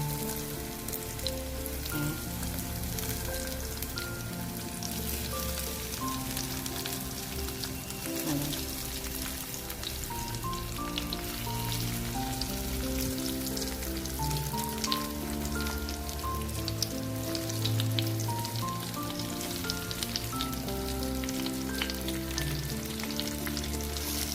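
Alu vadi, the traditional Samvedi colocasia-leaf rolls, frying in hot oil over a medium flame: a steady, close, continuous sizzle and crackle with no voices.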